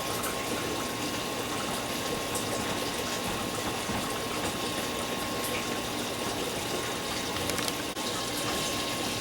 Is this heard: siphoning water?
yes